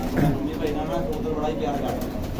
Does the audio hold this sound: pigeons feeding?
yes